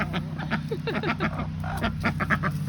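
Several ducks making rapid, chattering quacks in a backyard poultry flock, with a steady low hum running underneath; the calls come in quick overlapping bursts at moderate distance.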